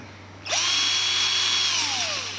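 A power drill used while building a robot spins up abruptly and whines steadily at high speed, close and loud, then its pitch sags slightly toward the end.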